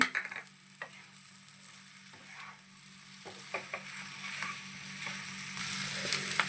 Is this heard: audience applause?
no